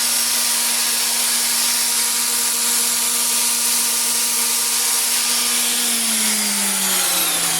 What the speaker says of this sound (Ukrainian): Включай дріль.